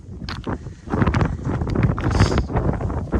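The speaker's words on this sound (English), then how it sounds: "Very windy." Strong wind buffets the summit of Pen Y Fan, 886 metres up in the Brecon Beacons, Wales, as a loud, continuous rumbling gust roaring close against the microphone throughout.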